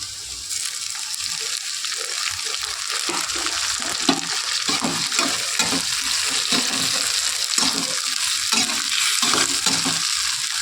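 Tomato stir-fried with cauliflower and potato in a pan, a loud, steady sizzle with repeated stirring and scraping strokes running through, close up and without voices.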